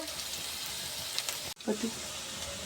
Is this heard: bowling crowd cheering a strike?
no